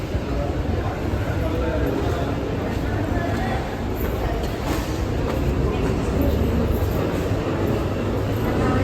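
A train rumbles steadily at Aluva railway station, a loud continuous roar with a broad noisy wash that holds throughout the clip.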